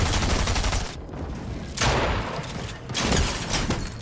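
Rapid bursts of video game gunfire crackle loud and close in a dense fusillade, with brief gaps between volleys.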